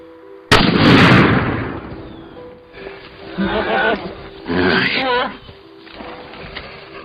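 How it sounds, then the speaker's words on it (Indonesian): A single loud rifle shot at a deer in a film cracks out near the start and echoes away, followed by excited voices talking over the fading rumble. "tembakan Joy berhasil mengenai rusa tersebut"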